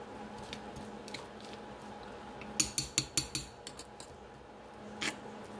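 Spatula scraping green onion and leek pesto down the sides of a food processor bowl: a quick run of six or seven close scrapes and clicks, then a lone scrape, over a faint steady hum.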